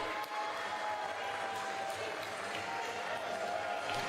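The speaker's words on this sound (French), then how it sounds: "On applaudit. On soutient ces deux coureurs." Spectators applauding at an indoor track cycling team flying-lap event, a fairly quiet, continuous wash of clapping and crowd noise with no distinct voices.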